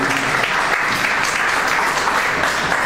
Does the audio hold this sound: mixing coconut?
no